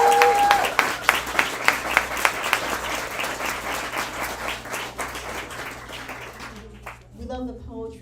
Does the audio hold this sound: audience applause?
yes